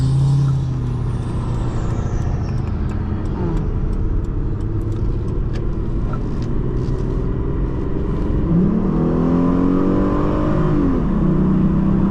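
A 2003 Hyundai Sonata's 2.7-litre V6 engine roars and climbs in pitch as it accelerates through several gears, loud and close, with a steady road rumble underneath.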